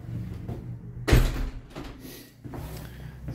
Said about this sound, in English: coming in through the front door, got an entrance with a glazed, or part glazed door to the hallway